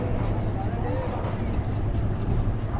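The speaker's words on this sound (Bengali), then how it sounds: "এখন এই ট্রলারে উঠে গেলাম, এখন ট্রলার ছেড়ে দিছে।" A low, steady engine drone of a motor boat rumbles throughout with wind noise, and faint voices murmur underneath.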